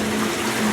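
Water gushing steadily over a freshly dipped painted part as it is rinsed, a close, even rush with a low hum beneath and no pauses.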